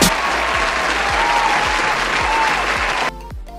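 Canned applause sound effect from a phone video editing app: a steady burst of crowd clapping, loud and continuous for about three seconds, then cut off abruptly with a brief quieter tail.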